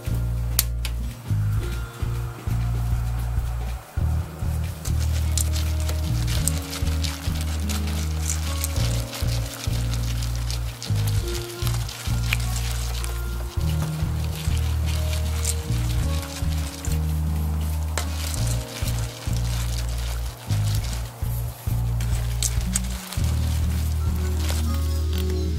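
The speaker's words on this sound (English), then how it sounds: "It's starting to boil." A sodium silicate (water glass) solution boils on a burner with constant crackling, popping and sizzling bubbles. The sound is close, busy and continuous, and nobody speaks.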